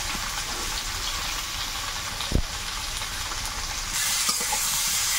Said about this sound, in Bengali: আলুগুলো প্রথমে ভেজে নেব, একটু হলুদ আর লবণ দেবো।